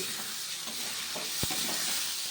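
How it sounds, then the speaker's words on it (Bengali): A spice masala of cumin, turmeric, coriander and red chili powders with salt and a pinch of sugar fries and is stirred for katla fish curry, a soft continuous sizzle with one sharp scrape of the spoon partway through. "আমি মশলাটা খুব ভালোভাবে কষিয়ে নিচ্ছি"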